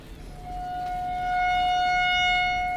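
An outdoor tornado warning siren wails through an open window from fairly close by, its steady tone rising and swelling louder over a few seconds and holding, with no talking.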